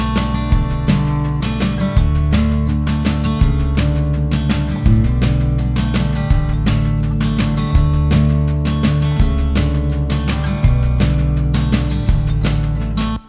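Clean electric guitar, lightly EQ'd with a wide one-decibel lift in the upper mids that adds sparkle to the fingers, plays steady picked chords and notes in a mix. The guitar part is loud and close, with even rhythmic phrasing throughout and no talking.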